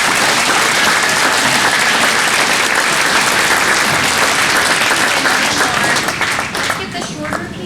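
A gala crowd at the Westminster Chamber of Commerce 2025 awards applauds the Small Business of the Year nominees with loud, dense, sustained clapping that holds steady and then begins to fade in the last second.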